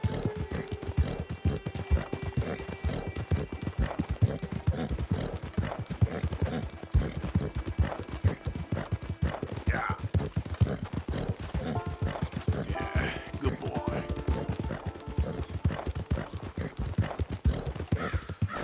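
Horse ridden at a steady pace in Red Dead Redemption 2, hooves clip-clopping in a rapid, regular rhythm throughout, close and clear, with occasional tack and movement noises layered over the hoofbeats.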